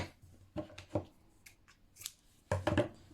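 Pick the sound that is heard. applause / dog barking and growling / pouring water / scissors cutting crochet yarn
scissors cutting crochet yarn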